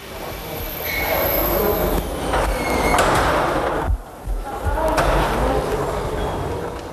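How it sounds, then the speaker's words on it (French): A Paris metro train on line 9 rumbles steadily along the track, with squealing wheels, a sharp metallic screech near the middle and a constant roar of carriage noise throughout. "mais à Paris, en plein métro, sur la ligne numéro 9, devenue la ligne de la drogue"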